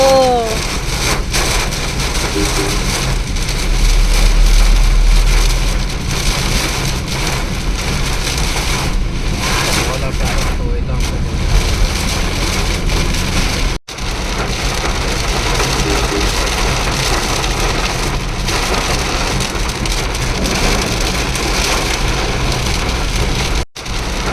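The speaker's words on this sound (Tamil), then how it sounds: "ஃபுல்லா மழை வருதுங்க." Heavy rain pours down in a steady, dense hiss that continues with little change throughout, briefly cutting out twice.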